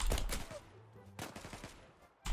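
Gunfire from the online shooter game Zula, including a Colt, comes as a few loud sharp bursts at the start, one more mid-clip and another at the end, with no talk over them.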